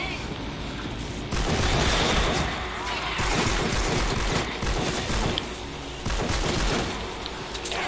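A grenade explosion and bursts of gunfire in a video game shootout, a heavy blast followed by dense overlapping shots and booms, loud and near with a voice mixed in.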